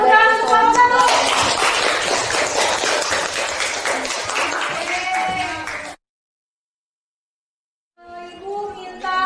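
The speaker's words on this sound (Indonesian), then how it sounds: "Kasih tepuk tangan untuk kamu." Classroom applause after a student group presentation at an Indonesian school, dense clapping from a roomful of listeners for about six seconds, then a sudden silence before voices and talk resume.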